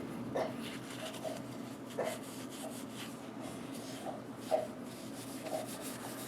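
A rag works oil over the metal sights and into the recesses around the hammer of a Colt Python revolver, making a soft, steady rubbing with faint scuffs and small taps, close and quiet with no talking.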